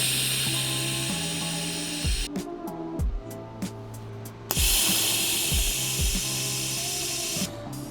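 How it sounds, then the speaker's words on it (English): Welding an exhaust flange for a Honda CB750F motorcycle: a bright, crackling hiss runs in two long bursts with a short broken stretch of sputters between them, fairly faint, over a low tonal background with no speech. "welding"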